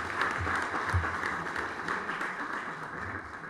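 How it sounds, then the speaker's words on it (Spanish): A conference audience welcomes a guest speaker at a legal lecture with steady, moderately loud applause, a continuous wash of hand claps with no talking over it. "Recibimos con un fuerte aplauso"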